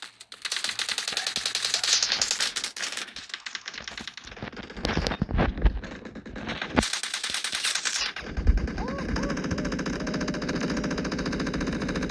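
Automatic rifle fire in a video game, sustained rapid bursts of shots running for several seconds, loud and close, ending in a steadier mechanical rattle.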